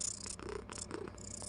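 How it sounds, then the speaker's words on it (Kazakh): Cat meows and purring sounds in a PVP video game: short, fairly soft bursts repeating over a steady background, with no talking. "Достар, мяу дейді, мяу деп отыр."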